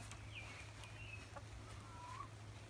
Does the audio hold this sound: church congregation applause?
no